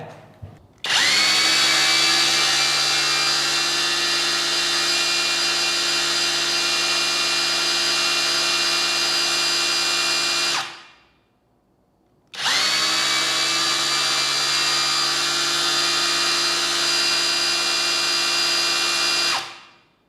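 A power tool rated at 1000 RPM runs at full speed during a speed check, a loud, steady, close whine that holds for about ten seconds, stops briefly, then spins up again for another long run before cutting out.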